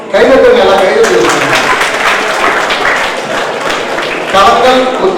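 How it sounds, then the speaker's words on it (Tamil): An audience at a cooperative week celebration applauds in a sustained, dense wash of clapping that fills the room, with a voice speaking over it through a loudspeaker. "கைதட்டுங்க, எல்லாம் கைதட்டு."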